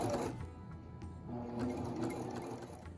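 A sewing machine runs a zigzag stitch along the raw fabric edges of a Renaissance-style overdress. It gives a continuous, moderately close whirring and rattling with no voices.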